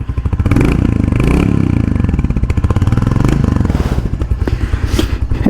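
A Royal Enfield Hunter 350 single-cylinder engine idles close up with a loud, steady, thumping exhaust beat and a rapid, even rhythm throughout.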